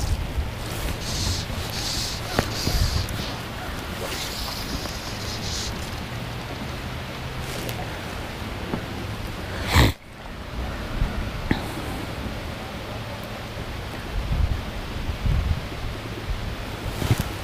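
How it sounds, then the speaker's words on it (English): Gusty upstream wind buffets the microphone outdoors on the water, rushing and roaring unevenly, with a sharp bump partway through. "There's a little bit of an upstream wind"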